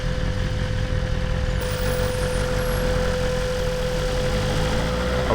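A BMW motorcycle engine idles before a ride with a steady, close, even rumble that holds without change throughout, and no voices are heard.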